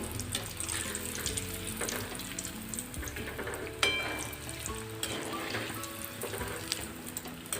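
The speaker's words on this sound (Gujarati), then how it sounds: "સ્લો ફ્લેમ પર આપણે આ ટિક્કીને તળાવવા દેવાની છે, જેથી કરીને અંદર સુધી તળાઈ જાય અને બહારથી એકદમ ક્રિસ્પી બનીને તૈયાર થાય" Methi and wheat flour tikki frying in oil over a low gas flame, a soft continuous crackle and sizzle with a few sharper pops, heard close but fairly quiet under light background music.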